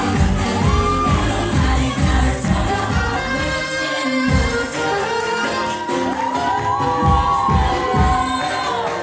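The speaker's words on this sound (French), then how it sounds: "On applaudit les filles" An audience at a wedding reception cheers and shouts for a troupe of dancers, a loud, dense crowd roar with whoops that runs the whole time over thumping background music.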